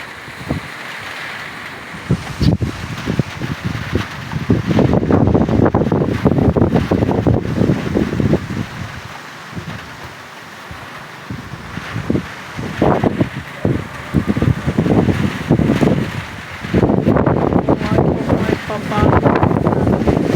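Typhoon Uwan's wind blows in strong, irregular gusts that buffet the microphone, swelling loud and then easing in waves across the whole stretch.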